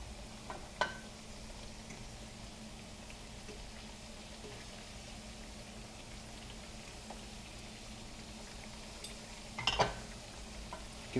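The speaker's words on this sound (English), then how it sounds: "Plantains are cooking." Plantains frying in a pan over high heat give a faint, steady, low sizzle with a few soft pops and a light clatter near the end.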